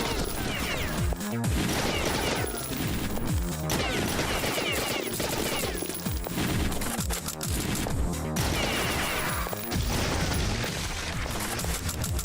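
Constant, dense gunfire from a video game, rapid bursts and single shots running without a break at a steady loud level, with smashes and impacts mixed in and a voice faintly underneath.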